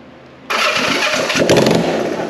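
A 1965 Honda CB450 motorcycle engine, primed with starting fluid, cranks and fires up abruptly after a quiet half-second, then runs loud and rough close by without settling.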